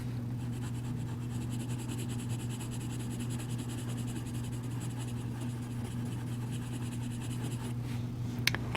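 Crayon coloring on paper for a Frankenstein's monster drawing, a faint continuous scratchy rubbing that runs steadily throughout beneath a low constant hum, with a brief sharp tap at the very end.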